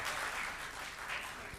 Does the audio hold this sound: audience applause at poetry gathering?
yes